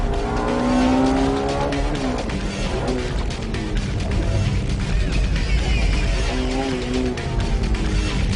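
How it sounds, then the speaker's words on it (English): Honda Civic EK9 Type R with a B16B engine racing through tight turns, exiting corners in first gear; a loud, steady engine roar with revs climbing and dropping and brief tire squeal, close to the listener. "He showed us some serious driving on the tight turns by using first gear at corner exits"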